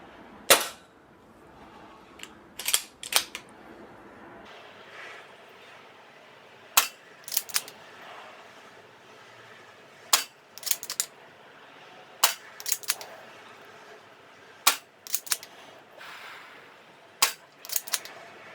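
Pistol shots fired one at a time at a shooting range using a red dot sight, sharp loud cracks spaced a few seconds apart, sometimes in quick pairs, over quiet background with no talking.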